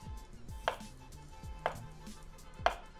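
A knife chops slices in the Cooking Simulator video game: three evenly spaced thuds on a board, each about a second apart, over a faint low background hum.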